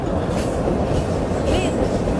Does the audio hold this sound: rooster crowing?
no